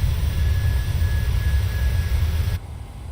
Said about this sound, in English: Plane is so loud on the exterior.